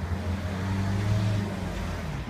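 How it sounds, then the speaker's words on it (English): Cars go by on a residential street beside a house extension under scaffolding, a steady mid-distance engine hum with low droning tones swelling slightly and fading, with no talking. "Just waiting for the cars to pass."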